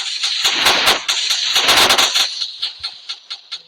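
Rapid gunfire in the video game Real Gangster Crime 2 crackles loudly in dense bursts, thinning into a few separate shots at the end.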